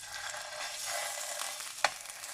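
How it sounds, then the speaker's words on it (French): Pork belly for Korean samgyeopsal sizzles in heated oil with a steady, bright crackling hiss and a single sharp tick partway through. No voices. "On cuit la viande"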